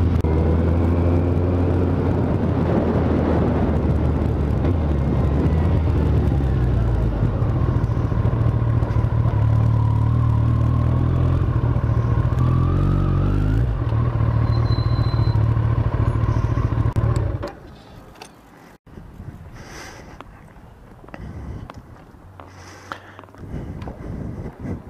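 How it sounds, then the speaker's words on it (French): Motorcycle fitted with a Dynojet module and a custom fuel map, running hard on a dynamometer test bench: a loud, steady engine roar with shifting tones for about seventeen seconds, then cutting off to quieter workshop sounds and faint clatter. "il m'a mis la moto au banc"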